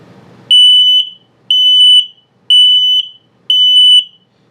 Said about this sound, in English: And now low battery alert.